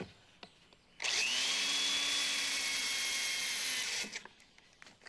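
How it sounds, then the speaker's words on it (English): Power electric drill spinning up loudly, running at a steady high-pitched whine for about three seconds, then winding down, with quiet room noise before and after. "First of all, you can use it for drilling."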